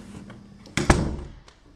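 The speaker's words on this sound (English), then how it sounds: "we also have this door to the kitchen, which I will keep shut" A kitchen door in an empty house swings shut with a single solid thunk, close and fairly loud, then a brief faint rattle settles after it.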